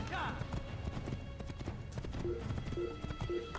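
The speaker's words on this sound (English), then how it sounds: "I am on a horse. I'm going to run away from them. Or gallop away from them, to be more accurate." A horse gallops in the Assassin's Creed video game, with fast, steady hoofbeats that are fairly close and continuous, mixed with game sounds while someone talks over them.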